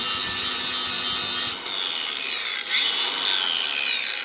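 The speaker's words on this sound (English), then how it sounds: "the cordless grinder. You don't have to take that much off." A cordless grinder trims a part for an AR15 upper with an 18-inch FN CHF 5.56 barrel. The close, loud, continuous high whine and grind dips briefly twice as the tool catches or lifts off the metal.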